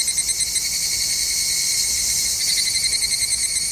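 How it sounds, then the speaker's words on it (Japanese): Higurashi cicada, the evening cicada of Japan, chirping in a steady high-pitched trill with repeated pulsing, loud and continuous with no voices. "このセミの音は日本人にとってはカナカナカナカナと聞こえます。"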